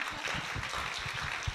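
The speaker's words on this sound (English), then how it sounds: "Ladies and gentlemen, round of applause." A modest indoor audience at a Mahasamadhi Day gathering in Bradford claps in a brief, moderately quiet burst of scattered, uneven applause.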